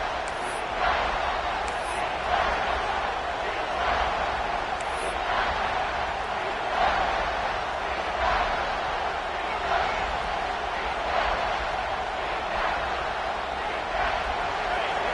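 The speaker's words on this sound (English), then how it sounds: "Third down, red zone play, crowd alive." Stadium crowd at an American college football game against Oregon roars in a dense, sustained wash of noise, loud and steady throughout, with a commentator talking over it.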